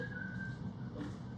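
A faint, thin whistle holds a steady note for about a second against a quiet classroom murmur.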